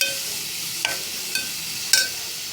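Onion fries in a pan for a cabbage dish, with a steady sizzling hiss close by and a few sharp scrapes as it is stirred.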